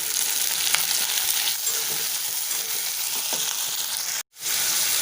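Onions and tomatoes sauté in a pan for tomato coriander chutney, a continuous close sizzle with faint stirring clicks, broken by a brief silent gap near the end before the frying resumes.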